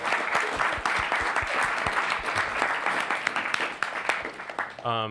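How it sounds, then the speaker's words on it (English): Applause from the audience at a student government senate meeting, continuous and moderately loud, fading slightly before a voice cuts in at the very end. "if we could give them a huge round of applause on that"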